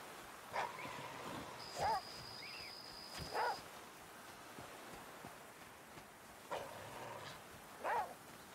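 A dog in a survival video game barks in several short, separated yips and woofs, faint and spaced out over a quiet background hiss.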